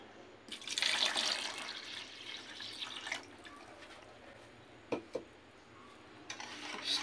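Water pours into puto flan batter in a bowl, a short splashing burst followed by quieter stirring, dripping and a few sharp clinks, close and soft with no voices.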